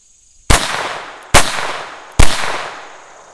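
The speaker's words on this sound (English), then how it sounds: "Walther P22 unsuppressed." Three sharp, loud cracks spaced under a second apart from an unsuppressed Walther P22 .22 pistol, each shot trailing off in a brief echo.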